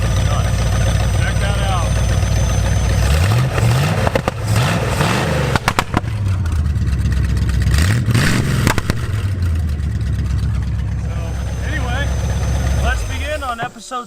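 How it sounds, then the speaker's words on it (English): A long-abandoned Plymouth Satellite muscle car engine, running for the first time in decades, idles with a rough loud rumble and revs up in several swells, with someone speaking over it. "We just got the engine running and we're going to go through the rest of the drive line here"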